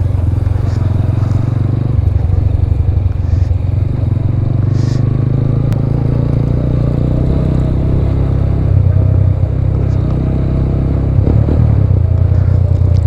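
A TVS RTR 200 riding off-road on a dusty trail behind a group of Royal Enfield Himalayans, the near engine droning low and steady under wind buffeting, with light clatter from the rough ground.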